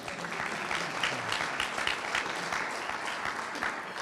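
An audience at a mayor's State of the City address applauds steadily, a dense wash of clapping that holds at an even level throughout, with no voice over it.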